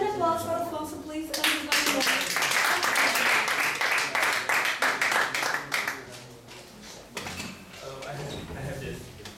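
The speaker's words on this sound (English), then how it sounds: "So, an applause for Afonso, please" Audience at a Toastmasters evening meeting breaks into applause, a dense burst of clapping that swells and then thins out into scattered claps, with voices mixed in.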